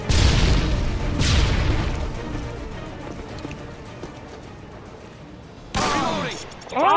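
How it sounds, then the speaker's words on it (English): A stun grenade goes off in a first-person shooter game: a loud booming burst at the start, a second blast a second later, then rumbling decay, with later sharp bursts of gunfire-like noise and rising tonal effects. "Tossing stun grenade!"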